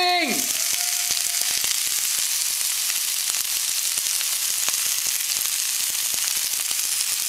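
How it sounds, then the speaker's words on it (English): Oil sizzles loudly in a hot pan while bok choy is stir-fried, a steady bright crackle with scattered pops and stirring clicks after a brief sharp hit at the start, continuous and close. "here's the hot pan ready for oil. You don't hear that sound? You're not cooking!"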